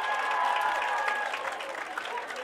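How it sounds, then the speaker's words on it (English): A pep rally crowd in a school gym applauds the cheerleaders, dense clapping mixed with cheering and crowd noise that holds steady throughout. "Let's give a round of applause for our cheerleader"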